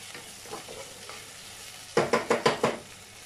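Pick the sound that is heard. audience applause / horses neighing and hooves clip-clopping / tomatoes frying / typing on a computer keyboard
tomatoes frying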